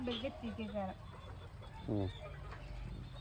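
Chickens clucking nearby in short bursts at a hen coop in the evening, mixed with faint background chatter.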